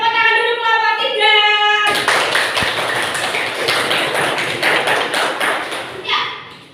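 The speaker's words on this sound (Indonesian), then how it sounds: "Beri tepuk tangan dulu kelompok 3." A school class claps for group 3 after its presentation, a burst of scattered clapping that starts suddenly and thins out toward the end, following a brief stretch of talk at the start.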